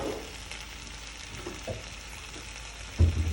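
Red wine hits a hot pan of chicken cacciatore and sizzles steadily, a close, even hiss with a few soft splashes and a louder burst near the end.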